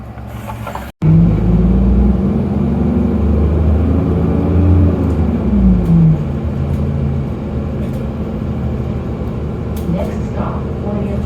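Steady loud engine rumble and road noise from inside a moving Toronto TTC 123 Sherway bus, a continuous drone with shifting tones as it drives, following a brief sharp cutoff near the start.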